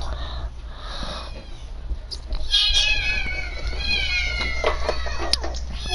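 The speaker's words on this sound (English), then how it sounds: "The kitty doesn't like you." A domestic cat meows several times at close range, the calls rising and falling over a steady low hum from a room where a video game is being played.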